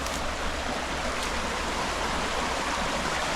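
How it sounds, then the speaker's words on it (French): A small trout stream rushes and babbles continuously, a dense steady wash of flowing water heard up close with no other sounds. "c'est un magnifique spot, petit ruisseau"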